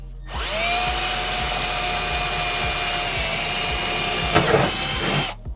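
A power drill whirs steadily for about five seconds, close and loud, boring through a BMW S1000RR motorcycle fairing panel with a brief grinding burst near the end before stopping.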